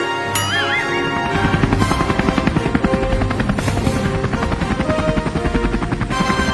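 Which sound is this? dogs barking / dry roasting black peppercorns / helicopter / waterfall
helicopter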